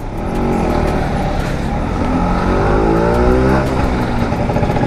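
The engine of an old, 36-year-old Bajaj Chetak scooter while riding on a highway: a loud, steady, buzzing drone that stays close and constant throughout, with faint wind.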